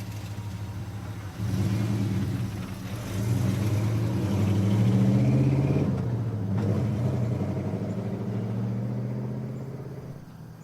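A car engine starts up and pulls away in an audio drama scene, a steady mid-pitched rumble that swells as it accelerates, holds near and loud for several seconds, then slowly fades as the vehicle drives off.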